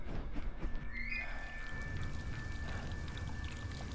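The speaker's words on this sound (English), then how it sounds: "I hear water. I heard water." Steady running water from a faucet in a Don't Starve horror mod hisses continuously, with a faint high tone drifting above it.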